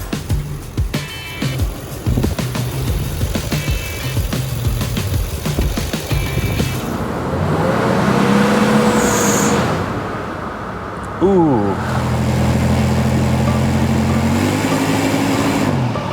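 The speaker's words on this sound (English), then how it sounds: "the engine's just kind of a racket in this thing" A Toyota 4Runner's engine runs with a loud, rough drone that swells and shifts in pitch, with voices talking over it.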